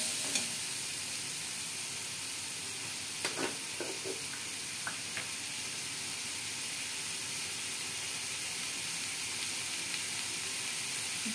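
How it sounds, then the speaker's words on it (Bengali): Turmeric, cumin and coriander powder sizzle steadily while being sautéed in a pan for potol posto. A constant frying hiss carries a few faint stirring clicks and scrapes. "জিরা আর ধনে গুঁড়ো দিলাম। একটু ভালো করে কষিয়ে নিচ্ছি।"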